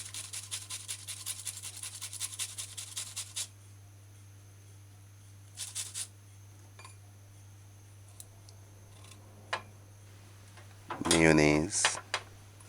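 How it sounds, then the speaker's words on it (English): Half an onion being ground to pulp by hand, heard as a run of crisp rhythmic scraping strokes, then isolated scrapes and a louder grinding burst near the end, over a steady low background hum. "Now an onion, half of an onion, you just grind it down to pulp as well."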